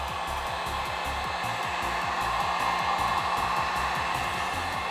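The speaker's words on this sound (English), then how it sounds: "I'm going to use a heat gun now to make this tape stickier" A heat gun blows hot air onto 3M adhesive tape, a steady loud fan whir with a constant whooshing airflow, close and uninterrupted, with no talking.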